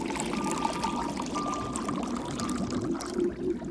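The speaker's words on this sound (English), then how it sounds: "take the water, put it back in the hole we had earlier" Water poured by hand back into a hole, a steady continuous splashing pour that runs close and fairly loud for the whole stretch, with no talk over it.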